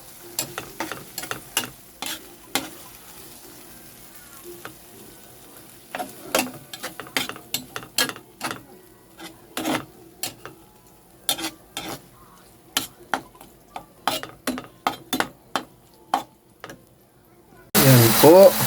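Bagoong tilapia sarsiado stirred in a pan, with a metal utensil scraping and clacking in irregular close bursts over a soft simmer, then a loud burst at the end.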